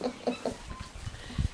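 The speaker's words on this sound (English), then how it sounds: "Having a hen party, aren't you?" Hens clucking softly nearby in a cow barn, a few short rhythmic clucks followed by low murmuring calls.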